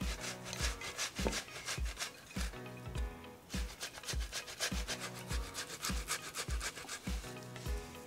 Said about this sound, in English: So just use a normal grater, try and go for the big side and just grate them.